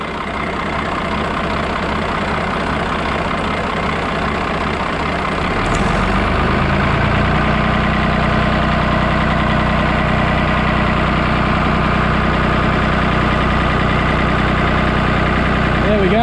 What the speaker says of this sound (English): I'll show you again with the revs cranked up.